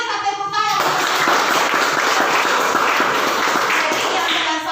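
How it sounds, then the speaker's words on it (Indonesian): A junior high social studies class applauding together in a classroom, a short spoken moment, then sustained, evenly loud clapping from many hands throughout. "mari kita tepuk tangan"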